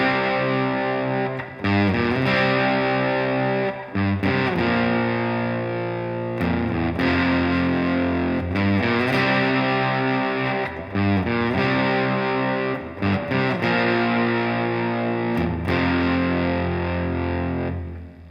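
A heavily distorted electric guitar plays a chugging verse riff alone, in loud repeated phrases with short breaks between them.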